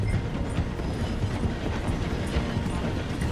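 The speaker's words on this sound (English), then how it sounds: "The train is slowing down to go through the station." A train in Red Dead Redemption 2 rumbles steadily along its rails with a low, continuous mechanical clatter while slowing through a station, with no voices.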